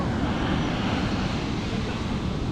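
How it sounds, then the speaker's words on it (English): A large fishing drone flies over a Southern California beach in Orange County. Its steady, loud, broadband motor roar holds throughout, with no talking. "That's a big boy drone too."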